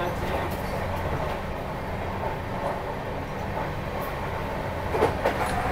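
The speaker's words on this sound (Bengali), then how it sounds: "তো চলুন, ট্রেন ছেড়ে দিয়েছে।" Onboard the Himgiri Express passenger train, a steady loud rumble of wheels on rails fills the cabin, with faint rhythmic clatter and rising jolts near the end; no clear talk.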